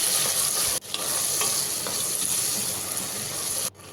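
Chopped tomatoes sizzle loudly in a pan while being stirred for pasta, a continuous frying hiss with soft scraping, briefly cutting out twice when the stirring pauses.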